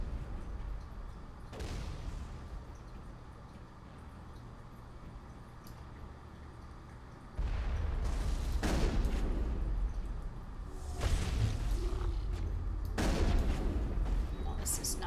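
Bursts of gunfire in a sci-fi shooter game firing at Geth snipers, with loud overlapping volleys and sharp shots growing heavier midway, under a steady battle din.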